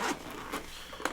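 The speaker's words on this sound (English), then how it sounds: "you unzip it" Zipper on a Doxa Sub 300 Professional watch box pulled open in a few quick rasping strokes, close and fairly quiet, the last pull ending in a sharper zip.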